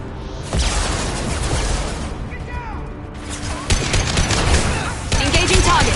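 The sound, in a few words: gunfire in the Mass Effect 2 video game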